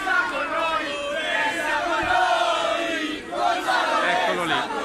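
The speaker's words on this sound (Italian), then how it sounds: "È Gonzalo Higuaín che si sta prendendo tutta la scena dei tifosi." Football fans greeting Gonzalo Higuaín roar and chant together in a dense, continuous crowd swell, loud and close throughout, with a brief dip before rising again.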